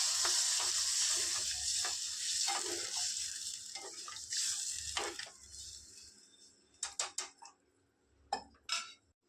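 Potatoes cooking in a pan for a Konkani wet-cashew vegetable dish, a loud sizzle with stirring scrapes that fades, followed by a few sharp clinks of a utensil against the pan, close up and without speech.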